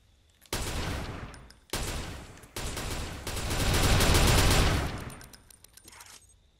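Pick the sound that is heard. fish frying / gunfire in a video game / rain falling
gunfire in a video game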